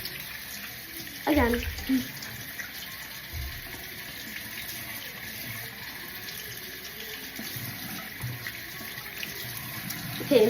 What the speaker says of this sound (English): Now we gotta drench it in water.